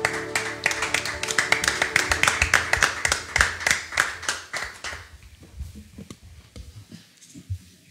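A church congregation claps in steady rhythm, dense and close, for several seconds before the applause stops and only a few faint scattered sounds remain.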